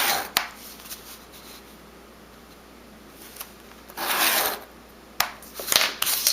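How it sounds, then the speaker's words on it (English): A ballpoint pen traced along dotted lines on a paper strip, soft close scratchy strokes in a few short bursts separated by quiet stretches. "you're going to trace along both dotted lines."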